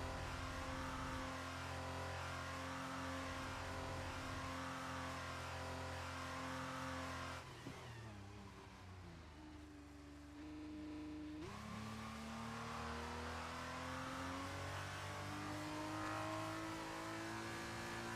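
An F2 race car engine in F1 23 holds a steady high whine at speed, dipping briefly mid-way as the pitch drops and climbs again, then carrying on loud and sustained with no talk.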